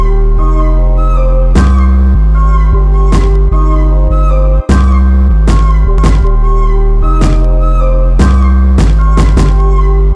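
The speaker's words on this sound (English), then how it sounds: "This wood sound would be good." A Minecraft wood sound used as a kick drum, giving short knocking thumps on the beat over a loud, continuous pitched loop, repeating in a steady rhythmic pattern.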